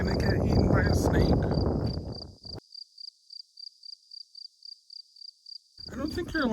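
Crickets chirp in pulsed bursts, steady and close, in the open air at the Parowan Gap; someone talks over them at the start and again at the end, with the crickets heard alone in between.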